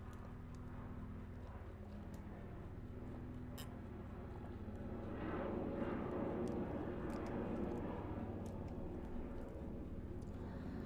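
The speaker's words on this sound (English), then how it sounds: "God, these planes are so obnoxious." Airplanes pass overhead, a broad low rumble that swells midway and lingers as a steady distant roar, with faint clicks and small sounds nearby.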